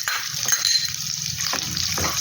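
Chopped onion frying in an oiled pan for chitranna sizzles steadily, with a few spoon scrapes and light metallic clinks from stirring, close and continuous, no voices.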